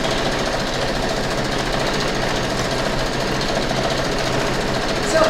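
A sewing machine stitches pinned quilt block pieces together for a pixelated Halloween bat block, a steady, even mechanical whir running continuously at close range with no talk.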